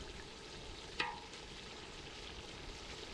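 Onion and tomato fry in a pot for village-style mutton dum biryani over a firewood stove, giving a steady, even sizzle throughout with a single sharp clink near the start.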